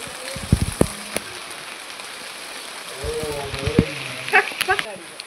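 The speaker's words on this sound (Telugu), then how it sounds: "వర్షం చూసారా ఎలా పడుతుందో." Heavy rain falls steadily at a home vegetable garden, a constant hiss of drops hitting surfaces, while people talk intermittently over it.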